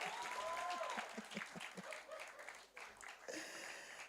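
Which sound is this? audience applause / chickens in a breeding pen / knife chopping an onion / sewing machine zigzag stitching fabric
audience applause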